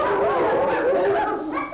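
Children imitate a dog barking, producing a short, high, whimpering bow-wow with a voiced, wavering pitch that lasts under two seconds.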